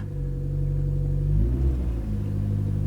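A Chevy Cruze engine idles with a low steady hum, then revs up briefly and settles back down, close and continuous with no talking.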